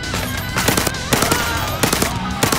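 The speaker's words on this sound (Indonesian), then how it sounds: "Oh my god, ada yang nembak lagi kan dari dari atas, teman." Rapid gunfire in the VR shooter ZeroCaliber VR: dense, crackling bursts of shots and sharp reports that keep coming close and loud for a few seconds, with no talking.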